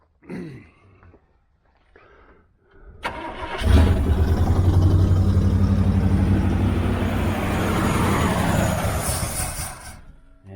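An old project vehicle's engine, a marketplace purchase left unfinished, cranks briefly and then catches, settling into a loud, steady running rumble close by that continues for several seconds with no one talking.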